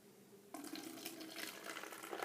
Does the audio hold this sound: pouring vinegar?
yes